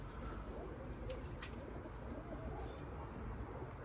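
Faint, low cooing of young pigeons under a soft rumbling background, a few calls spread across a few seconds.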